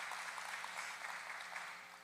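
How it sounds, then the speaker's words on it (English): Audience applause at a tea event, a dense steady wash of many hands clapping at a distance, fairly faint and continuous without any voices. "Yes, clap it up."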